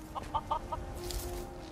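Chickens in the video game Skyrim giving a few short, soft clucks in quick succession over a quiet game ambience, without talk.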